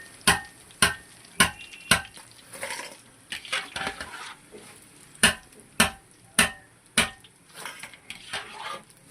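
Curry leaves fry in hot oil for soft pakodi, a faint crackling sizzle punctuated by a steady series of sharp metal spoon clinks against the pan.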